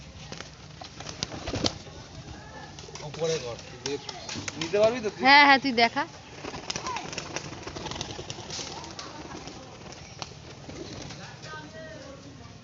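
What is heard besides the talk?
fantail pigeons cooing and flapping wings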